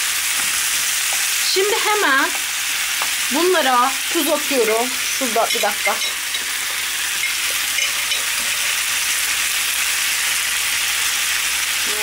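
Cold, juicy tomatoes fry in a hot pan for a vegan dish, with a steady, loud, close sizzle throughout as someone talks briefly over it.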